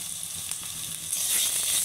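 Ginger garlic paste and curry leaves fry in hot oil, giving a steady hiss that grows a little louder partway through, with no voices.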